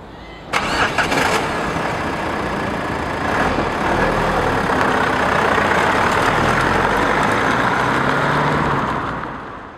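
A Mazda 6 Tourer's twin-turbo 2.2-litre diesel engine cranks and fires with a sharp start, then settles into a loud, steady, close-up idle rumble that fades out at the end.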